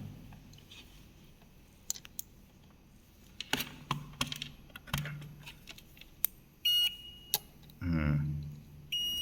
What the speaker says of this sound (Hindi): इसमें बीप की रेंज पर सेट करके ये चेक कर लेंगे माइनस कौन सा है इसमें।